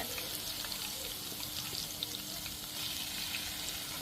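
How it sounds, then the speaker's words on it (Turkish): Garlic fries in a pan over a wood fire, giving a continuous faint sizzle and crackle with no clear breaks. "nasıl güzel kızaracak şimdi"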